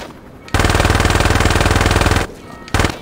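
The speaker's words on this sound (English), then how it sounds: "That gun kinda weak right there. We ain't got that many bullets." Loud automatic gunfire from a gun in the video game Saints Row 2: one sustained burst of rapid shots lasting nearly two seconds, then a short pause and the start of another burst.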